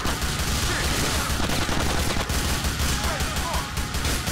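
Heavy gunfire in GTA IV, a dense, continuous barrage of rapid shots and bursts running loud and unbroken throughout, with no pauses between volleys.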